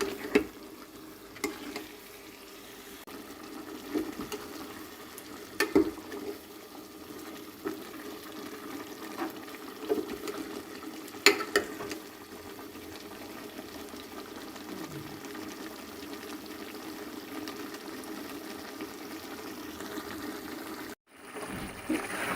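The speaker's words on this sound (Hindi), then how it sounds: "चिकन को इतनी देर हम भूनेंगे जब तक इसका अपना पानी खुश्क हो जाए" Chicken fried in its own juices until the water cooks off gives a long, low, bubbling sizzle with occasional clinks of stirring, steady and fairly quiet throughout, with no talk.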